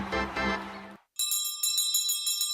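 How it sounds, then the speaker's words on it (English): A bell at Children's Hospital Los Angeles is rung to celebrate a child beating cancer, bright metallic strikes repeating in a quick steady rhythm, loud and close, after a cut from other sound. "this bell rings for every child who triumphs over cancer."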